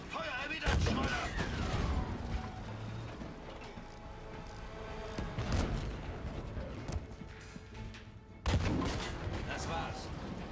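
Gunfire exchanged in a World War II tank battle video game, several heavy booming shots and bursts with mechanical clatter and crashes, loud over a continuous rumbling background, with voices shouting in German.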